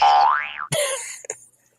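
A springy cartoon boing wobbles up and down in pitch, followed by a couple of short, bright zipping effects, then silence.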